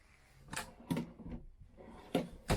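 Wooden drawers in a 2020 Thor Tiburon 24TT RV slide and knock shut several times in quick succession, each with a sharp clack, close by and with no talking.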